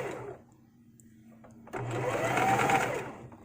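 A sewing machine whirs in a fast, steady burst as it free-sews flowing fabric, close and loud after a short quiet pause.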